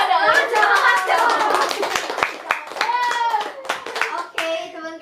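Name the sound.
hand clapping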